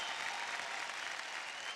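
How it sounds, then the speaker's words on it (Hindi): A studio audience at an Indian televised dance competition breaks into dense, continuous applause, a bright wash of many clapping hands that holds steady throughout. "जोरदार तालियां हो जाए यार"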